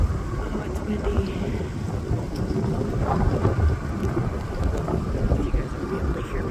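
Strong gusts of wind roar steadily across the microphone at a mine site, a dense, buffeting rumble that stays loud throughout with no break.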